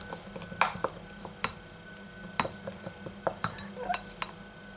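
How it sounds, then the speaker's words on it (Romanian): Sunflower, olive or jojoba oil is stirred in a bowl, and a utensil clinks and scrapes irregularly against the sides in close, distinct taps over a quiet background. "Și amestecăm bine"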